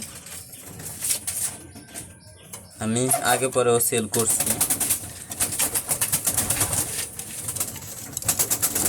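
Racing pigeons coo steadily inside a loft, a dense layered murmur of calls that persists throughout while someone speaks over them for a few seconds midway.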